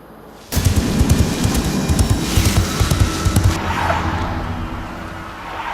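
A car driven fast along a forest road at dusk, tyres and engine rumbling loudly with rough, bumpy bursts, easing off toward the end.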